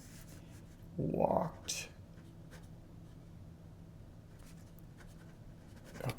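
Pen or marker scratching out words while a sentence is diagrammed, a short burst of writing strokes up close beneath a person's speaking voice.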